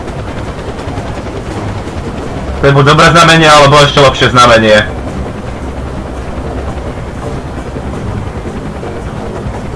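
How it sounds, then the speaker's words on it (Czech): A helicopter flies in Far Cry 4 in a Himalayan setting, its steady rotor drone a low, constant background while someone talks loudly over the middle of the stretch. "Počujem vrtulník."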